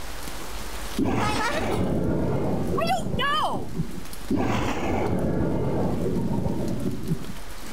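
Rain and rolling thunder from the video game Freedom Planet form a loud steady wash, cut off briefly mid-clip, while a voice talks over the storm.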